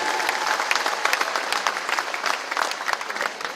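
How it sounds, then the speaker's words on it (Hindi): An audience at a public event gives a singer steady, dense applause, with many hands clapping continuously at a fairly close, even level throughout. "जोरदार ताली बजा इसकी आवाज के लिए भी"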